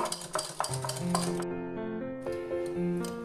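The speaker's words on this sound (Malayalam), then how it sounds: "നമ്മൾ നന്നായി അടിച്ചെടുക്കുക," Srikhand being beaten with sugar in a bowl using a whisk gives quick metallic clinks and scraping taps against the bowl, close and clear with no talk.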